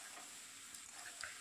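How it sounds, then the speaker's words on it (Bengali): Potatoes with cumin, salt, turmeric, capsicum, green chilli, tomato and red chilli powder stirred and fried in a pan give a soft, steady sizzle with a few faint scraping taps. "ভালো করে আলুটা কষিয়ে নিচ্ছি।"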